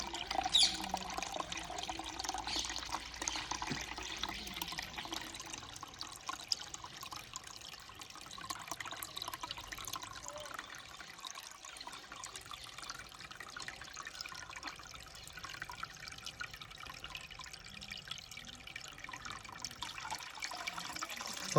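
Continuous watery rushing and trickling as liquid fertilizer is poured and mixed with water for pepper plants, a steady, fairly faint wash lasting throughout with no speech.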